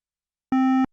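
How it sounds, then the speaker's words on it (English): A clean sine tone driven past 0 dB and digitally clipped, flattening toward a square wave: one steady, harsh, buzzy burst lasting about a third of a second, loud and alone against silence. "This is effectively turning our clean sine wave almost into more like a square wave"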